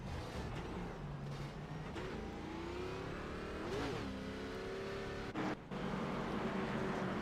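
Race cars at Irwindale Speedway roaring past during a scrambler series race, engines revving and swelling with passes, loud and continuous with overlapping cars.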